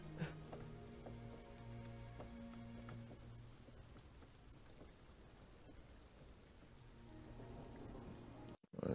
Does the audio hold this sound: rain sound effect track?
yes